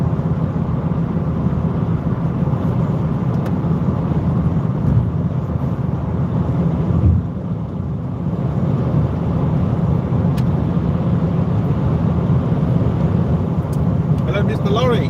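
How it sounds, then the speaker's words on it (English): A lorry rumbles past on the road, a low steady engine roar that swells and fades, with people talking close by over it. "Hello, Mr. Lorry. Bye-bye, Mr. Lorry."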